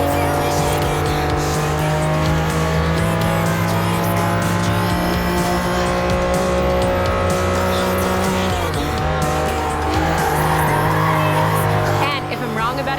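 Lamborghini Countach in the Forza Horizon racing game roars steadily at high revs, with tires squealing and skidding through corners and a brief gear shift near the end, loud and continuous.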